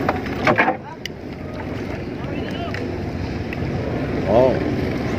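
Speedboats run on open sea off a white-sand beach, a steady wash of engine drone, wind and water with a faint higher whine rising late, while voices speak briefly near the start.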